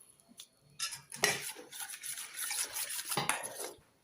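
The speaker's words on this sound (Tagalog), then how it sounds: "Haluin lang natin mga mamshi." Egg mixture for patola (ridge gourd) fritters being stirred with a utensil in a bowl, a steady run of close scraping and clinking strokes, with louder bursts midway and no talk.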